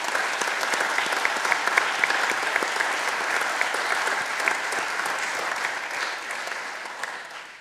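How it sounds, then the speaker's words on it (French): A seated assembly session at the Swiss Abroad Council gives sustained applause, a steady, dense wash of many hands clapping at moderate distance for several seconds before it fades slightly. "Ein Applaudissement."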